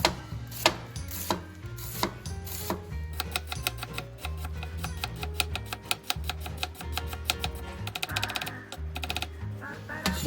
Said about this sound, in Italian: la faccio a rondelline perché almeno rimane più consistente